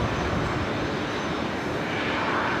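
An Emirates airliner departs Brisbane Airport on runway 19 left, its engines giving a broad, continuous roar that stays loud and steady throughout.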